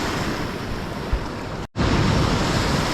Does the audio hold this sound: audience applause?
no